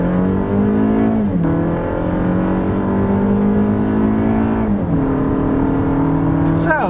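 A 2021 Toyota Avalon AWD engine climbs steadily in pitch through two gear shifts as the car accelerates onto a highway, a loud continuous drone heard from inside the cabin.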